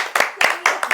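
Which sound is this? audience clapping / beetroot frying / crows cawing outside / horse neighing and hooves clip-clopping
audience clapping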